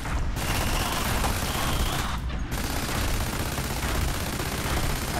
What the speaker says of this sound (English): I still have a machine gun